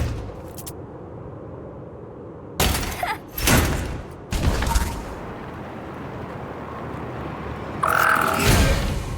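Gunfire in the Starbites video game comes as several sharp, loud bursts of shots and blasts over a steady low rumble of ambient noise, with short pauses between the volleys.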